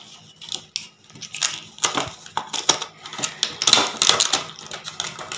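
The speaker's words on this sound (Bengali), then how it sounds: "তো চলো তোমাদের এই দুটো একটু খুলে দেখাই, আনপ্যাক করে দেখাচ্ছি।" An online shopping package is unpacked up close, with crinkling plastic and paper, scattered clicks and rustling handling noises that grow busier and louder toward the end.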